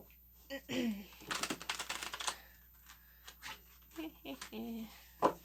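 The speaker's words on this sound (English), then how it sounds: "I always have such a hard time shuffling this deck. They're nice quality cards, but they're very thick." A deck of thick, high-quality tarot cards being shuffled in bursts of crisp, rapid riffling and slapping clicks close by, with someone talking softly between and around the shuffles.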